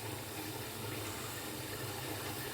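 Running water from a tap splashes steadily as a face is wetted before a wet shave, a continuous soft gush with no talking.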